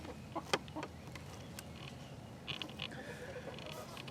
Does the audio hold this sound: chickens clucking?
yes